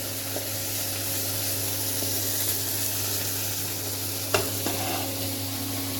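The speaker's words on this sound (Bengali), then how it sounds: "ইলিশ মাছের ডিমও ছিল তো দেখো ডিম মার জন্য ভাজা রাখবো" Hilsa fish roe frying in a pan gives off a steady, close sizzling hiss that holds evenly throughout, with a faint low electrical hum and one brief clatter near the end.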